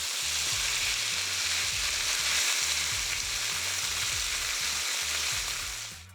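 Chicken pieces for Kung Pao chicken fry undisturbed in a hot pan, a loud, constant crackling sizzle up close that eases off at the end, with soft music underneath.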